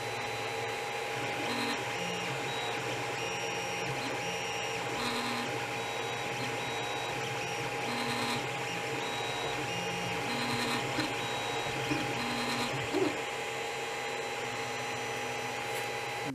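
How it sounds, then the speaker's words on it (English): 3D printer printing two pieces, a steady motor hum and fan whir with stepping tones that shift pitch as the print head moves, continuous and close, with no talking. "So I'm going to get this to the printer. And we're going to print our two pieces."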